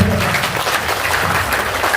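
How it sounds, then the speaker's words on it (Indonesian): A seminar audience on business success applauds, dense and loud clapping filling the whole short stretch. "Tepuk tangan buat Bapak Ibu."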